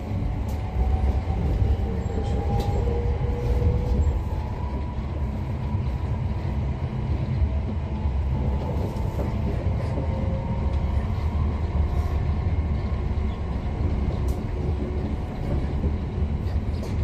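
A Class 710 electric train on the Liverpool Street line runs with a continuous close rumble of motors and wheels. Faint clicks and rattles sit over the steady, unbroken cabin noise.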